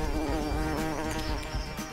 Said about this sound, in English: Bees are getting angry.